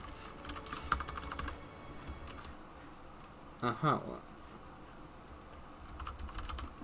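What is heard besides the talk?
typing on a computer keyboard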